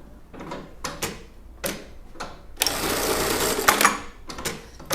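A sewing machine backtacking the fabric of a child's top, short mechanical stitching bursts followed by a sustained, loud whirring run, close up, with no talking.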